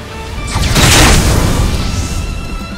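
Fiery blast from a fire attack in the JRPG Octopath Traveler II, a loud booming whoosh that swells after half a second and decays slowly over the rest of the clip, with no talking.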